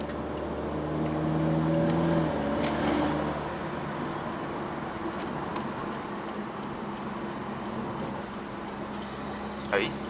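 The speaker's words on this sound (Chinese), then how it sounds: "它是一个水平制的引擎 ，Boxer engine。" A Subaru WRX S4 2.0T CVT with a horizontally opposed boxer engine and quiet muffler hums low and steady from inside the cabin, a subdued drone that swells slightly early on, then settles.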